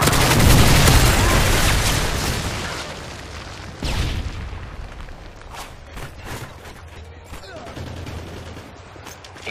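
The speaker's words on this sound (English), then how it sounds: "Friendly Predator missile inbound." A Predator missile strike in Call of Duty multiplayer lands as a loud, roaring blast up front, then a second thump, with scattered rapid gunfire crackling afterward at a lower level.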